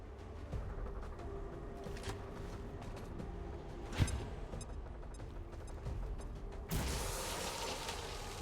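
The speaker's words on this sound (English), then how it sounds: "Grenade out!" A grenade goes off in the video game XCOM 2, a short sharp blast partway through, set among game sound effects and a low background hum, with later bursts of noise.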